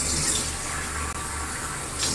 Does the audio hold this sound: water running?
yes